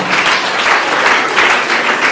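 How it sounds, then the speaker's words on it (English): A round of applause from a nursing seminar audience, a brief, dense and even burst of many people clapping close by, with no voices over it. "Another round of applause for her."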